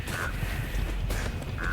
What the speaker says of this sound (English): Go away, you crow.